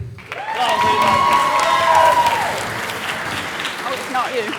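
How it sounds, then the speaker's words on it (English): A round of applause for Luke swells from a crowd, with a bright whistle riding over about two seconds of dense clapping before it tapers off. "let's get a round of applause for Luke"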